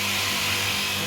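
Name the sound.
morticer drilling holes for floating shelf bracket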